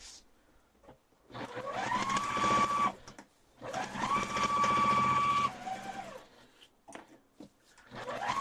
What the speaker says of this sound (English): Let's sew that on here.